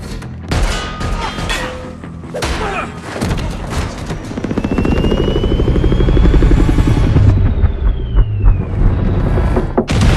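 A loud helicopter drones steadily during a chase in a film adapted from a game, its rotor thumping growing stronger midway, with scattered bangs and impacts over the top.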